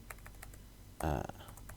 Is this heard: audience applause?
no